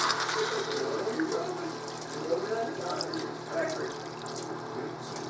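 Chicken broth poured from a container into a soup pot on the stove, a steady liquid splash and trickle running continuously, moderately loud and close.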